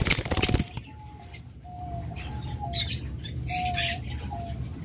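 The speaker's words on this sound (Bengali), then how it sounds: "এখানে রয়েছে এক জোড়া চমৎকার ফিশার, লুটনো ফিশার" A pair of lutino Fischer's lovebirds give short, thin chirps and brief tweeting calls, close by, after a loud clatter at the start, over a steady background hum.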